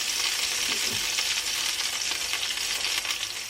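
Duck breast (magret de canard) sizzles steadily in a pan as it gently browns, a continuous bright frying hiss at close range with no one speaking.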